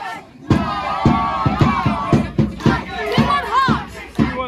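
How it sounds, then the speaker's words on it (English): Football supporters at a Scottish Cup fourth-round tie between The Spartans and Hearts chant and shout close by, loud voices rising and falling over a run of sharp, regular thumps. "Good atmosphere, eh? Big crowd."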